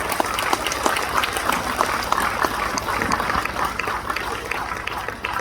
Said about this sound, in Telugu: ఆనాపానసతి మెడిటేషన్ కి ఇంకా గట్టిగా చప్పట్లు.